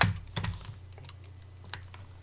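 Keystrokes on a computer keyboard while a Linux desktop (elementaryOS 6 Beta 2) is being operated: a few separate clicks, one near the start and a sharper tap near the end, set against quiet room hum with no talking.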